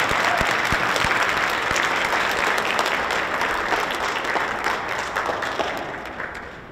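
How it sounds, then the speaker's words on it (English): Sustained applause from the audience at a Norristown Young Scholars MLK Day program, dense clapping that holds steady and then gradually fades toward the end. "one more round of applause for Judge Gregory Scott."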